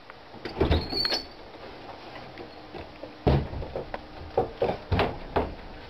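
A faulty door is worked open with a string of knocks, clicks and rattles, the latch and frame clattering in uneven bursts before settling.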